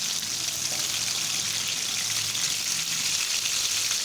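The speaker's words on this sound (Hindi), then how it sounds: "हम अपनी चपली कबाब को तकरीबन 3 मिनट नीचे से पकाएंगे, 3 मिनट ऊपर से" Chapli kabab frying in a pan over normal heat, a steady close hiss and crackle of sizzling oil running continuously without pause.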